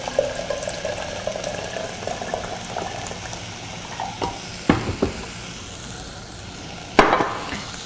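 Hot water poured into a pan of mole sauce, which bubbles and sizzles steadily, with a few sharp spoon clinks and scrapes against the pot.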